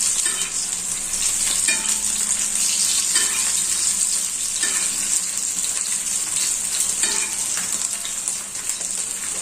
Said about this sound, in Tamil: இது ஊற்றிட்டிங்கன்னா அந்த மேலே இருக்க மசாலா வந்து ஓரளவு அந்த பொரிஞ்ச மாதிரி வந்துடும்.